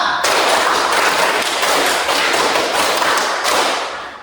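A group claps in unison during a rhythmic clapping exercise, five claps repeated twice. Sharp, loud group claps blur into a dense clattering stretch before fading at the end.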